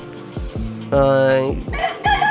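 A rooster on a cow farm crows repeatedly and loudly nearby, with other chickens clucking around it, several overlapping crows in quick succession.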